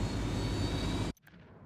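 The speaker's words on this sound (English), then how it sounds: "Oh, that plane over there's still on." An idling airplane left running in GTA, a steady loud jet-like engine roar that cuts off abruptly after about a second.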